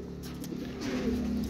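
Soft, low cooing from pigeons in a loft rolls on steadily, a murmuring coo that swells slightly toward the end, with no talking.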